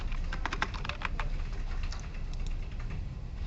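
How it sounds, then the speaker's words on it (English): Quick, close tapping of keys on a computer keyboard while Java code is typed, in a steady irregular patter against a quiet room hum. "We may as well actually type some Java in."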